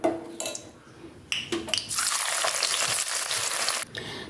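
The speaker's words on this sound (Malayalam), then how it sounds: "ബാക്കി സവാളയും കൂടെ നമുക്കതുപോലെ തന്നെ വറുത്ത് കോരിയെടുക്കാം." Onions deep frying in hot oil for chicken chukka, a loud continuous bubbling sizzle that swells after a few clattering knocks and runs steadily to near the end, with no talk.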